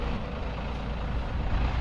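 An old International truck that sat for about twenty years pulls out of its hole, a loud, steady, close engine rumble with no breaks.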